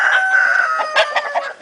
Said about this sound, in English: What are they doing to that poor chicken?